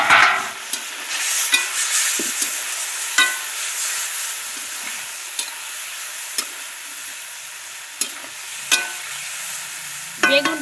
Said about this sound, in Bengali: বেগুনটাও আমি একটু মশলার সঙ্গে কষিয়ে নিয়েছি